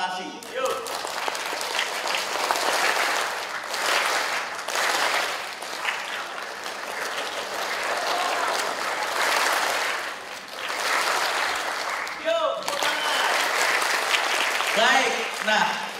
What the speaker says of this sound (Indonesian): Seperti tepuk tangan Anda sekali lagi.